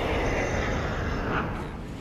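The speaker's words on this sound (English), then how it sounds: "I love that sound effects they did to the glider." A glider in a video game gives off a loud, steady jet-engine-like roar that holds for the full two seconds, with no voices over it.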